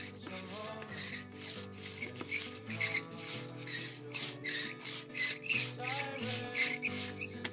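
A brayer rolls back and forth through sticky orange printing ink, giving a rhythmic tacky rasping that swells with each stroke, close and quiet, over soft background music.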